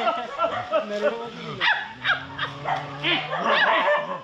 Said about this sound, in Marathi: हे कुत्र्यांचा जोमाट लागला.